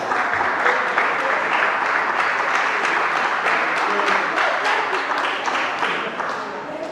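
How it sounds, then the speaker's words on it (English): An audience at a debate session claps steadily throughout, a dense, even round of applause that fades a little near the end. "I will give this young man a hand of applause"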